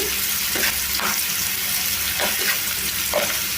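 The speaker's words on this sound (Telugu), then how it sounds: "ఇప్పుడు ఒక రెండు నిమిషాలు ఈ ఫ్రై అయిపోవాలి ఈ ఉల్లిపాయలు" Onion pieces with turmeric frying in a pan, giving a steady, fairly loud sizzle with a few soft stirring scrapes and clinks spread through it, no voices.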